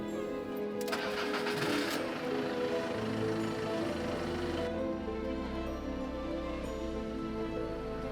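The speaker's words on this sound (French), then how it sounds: "Là, le moteur tourne, l'orion a du jus, donc le courant circule bien comme il faut." A vehicle engine cranks briefly and catches, then settles into a steady running idle after a replaced relay, heard up close with no talking.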